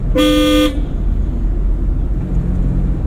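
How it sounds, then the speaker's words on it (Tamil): A single short car horn blast, loud and close, followed by the low rumble of traffic and engine noise. "ஹார்ன் அடிச்சுங்க, ஆப்போசிட் வண்டி வருது தெரியல"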